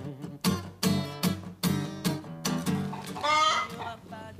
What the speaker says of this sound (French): Sont à toi, les poules?